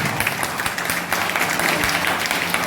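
An audience at an evening theatre event held by a drama and theatre department in Gwalior breaks into loud, sustained applause, a dense wash of many hands clapping throughout.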